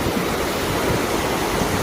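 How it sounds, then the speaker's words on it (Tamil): River water rushes strongly at Nippathurai, a dense and steady roar of flowing current heard up close with no other sounds. "நீப்பத்துறையில் இந்த அளவுக்கு தண்ணி போகுதுங்க."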